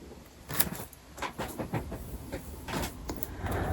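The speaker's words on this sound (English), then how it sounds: "My chair is very squeaky." A squeaky chair creaks and shifts in a quiet room, a series of short irregular squeaks and rubbing creaks scattered close by over a soft background hiss.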